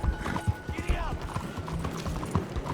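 Hooves of a horse in Red Dead Redemption 2 pound out a gallop, close and rhythmic. The rider speaks briefly over the hoofbeats.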